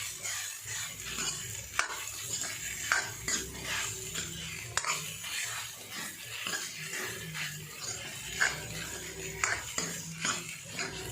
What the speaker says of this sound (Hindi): भट्ट को अच्छे से भून लेंगे ऑयल में ही।